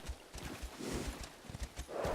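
Imperial horse hooves clip-clopping in the Elder Scrolls Online video game, a steady walking rhythm of soft, moderately quiet thuds heard alone for about two seconds.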